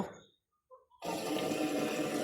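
Water sent down from above into a blocked drain arrives as a sudden loud, steady rushing flow after a brief quiet pause, close and continuous with no talking.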